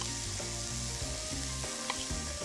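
Onions and sliced pepper fry in a pan with a continuous, close sizzle and crackle, occasional stirring clinks and scrapes breaking through.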